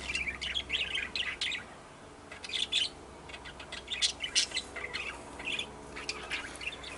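Budgerigars chirp and squawk near their nesting boxes, a lively run of close, bright calls in quick bursts with a short lull partway through.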